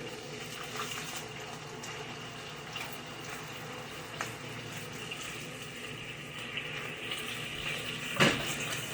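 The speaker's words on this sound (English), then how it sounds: "I'm going to just add a little bit of water to this." Water is poured into a hot pan holding vegan smash burger tacos so they steam, giving a steady hissing, bubbling sizzle throughout with a brief louder splash near the end; no talking.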